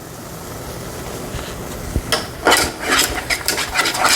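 Mac and cheese sauce stirred in a pot for smoked mac and cheese on a Traeger, with a spoon clinking and scraping against the pot in quick, uneven strokes that get busier after a quiet start.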